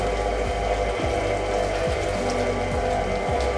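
Electric mixer steadily beating mashed potatoes in a kitchen as hot milk is poured in a little at a time, a continuous close whirring drone with periodic rhythmic surges in the motor tone.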